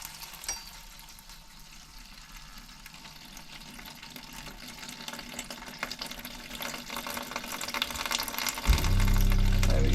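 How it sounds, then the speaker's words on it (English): Water running into a pot to rinse paint brushes during boat work, a steady trickling flow that swells near the end into a loud, full gush. "Put some water back in these brushes."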